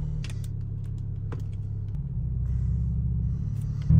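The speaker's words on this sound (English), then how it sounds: "now we're gonna take the car in a little test drive" A BMW 328 (E90-series) on a test drive fitted with 335i brake calipers and rotors, its engine giving a steady low rumble from inside the cabin that swells slightly toward the end, with no talking.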